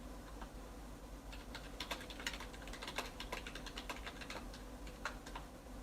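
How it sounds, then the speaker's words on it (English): Someone types on a computer keyboard, a quick irregular patter of close key clicks over a low steady hum. "I'm busy typing"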